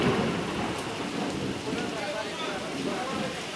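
Heavy rain pours onto a flooded market street, a dense, continuous hiss of water drumming on surfaces, with faint rumbling underneath.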